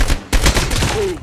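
A single sharp gunshot lands a headshot in the mobile shooter game Call of Duty: Mobile, followed by dense game noise and a short rising tone, all loud and close.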